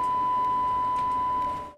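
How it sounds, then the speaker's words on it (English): A steady test tone fed from an Adtran ISDN unit to a telephone, one continuous even beep held for nearly two seconds before cutting off abruptly, with faint line hiss beneath it. "the Adtran could at least output a test tone to the telephone"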